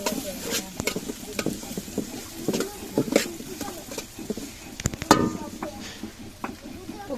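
Chopped onions in mustard oil sizzle in a pan for a Bengali khuder bou dish, with scraping stir strokes and clatter from a spoon against the pot, close and fairly busy throughout.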